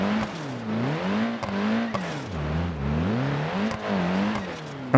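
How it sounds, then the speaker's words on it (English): Car engine in BeamNG.drive revving hard with pitch rising and falling in waves as the wheels spin, a steady close-up roar with no talk. "we're working the engine a lot harder than it should, because at times it's not really putting the power down correctly, and that's spinning the wheels a lot"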